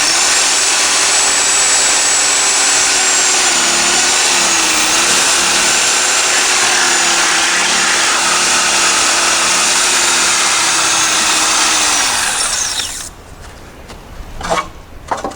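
A power saw cuts through a truck rack with a short blade, a loud continuous whining, grinding roar held steady for about twelve seconds before abruptly stopping, followed by a few faint clanks and handling noises.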